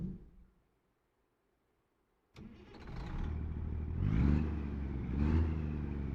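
A truck engine with a 625 King of the Hill build in the American Truck Simulator video game cranks and starts after a short silence, then settles into a rumbling idle with two swelling revs, close and alone.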